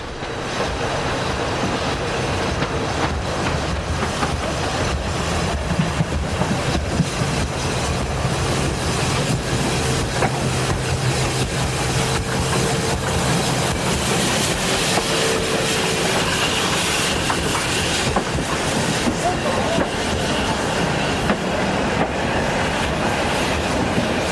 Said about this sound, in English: the locomotive plows on unperturbed